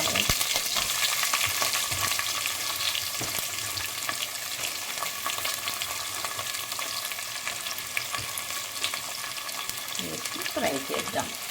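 Onion, chili and carrot frying in a pan for a pulav, a continuous hissing sizzle with occasional stirring scrapes, close and steady without any talking.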